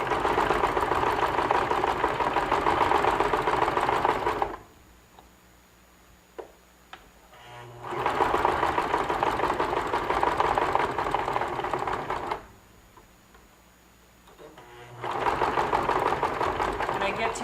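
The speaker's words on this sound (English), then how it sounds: "Stitching 1 pick away from the selvage and holding front and back so that it progresses evenly." Sewing machine stitching handwoven rigid heddle fabric near the selvage: two long runs of fast, steady mechanical whirring and ticking, close and loud, separated by quiet pauses.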